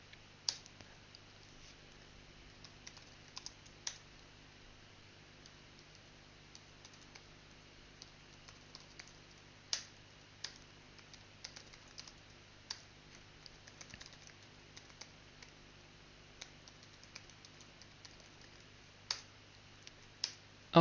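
Rapid keyboard typing while writing Qt 5 C++ code, a steady run of light close clicks with occasional sharper keystrokes, alone and fairly quiet over faint background hum.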